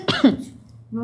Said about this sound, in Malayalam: നല്ല ചുമയുണ്ട്.